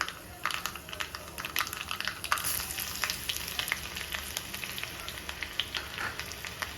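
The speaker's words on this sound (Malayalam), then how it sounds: "നമ്മുടെ താളിപ്പ് ഇവിടെ റെഡി ആയിട്ടുണ്ട് നമ്മുടെ ചമ്മന്തിയിലേക്ക് നമ്മുടെ താളിപ്പ് ഒഴിച്ചു കൊടുക്കാം" Kerala-style tempering of mustard seeds, dried red chilli, chopped shallot and curry leaves crackling in hot oil for chutney, a continuous close sizzle dotted with sharp pops and a few stirring scrapes.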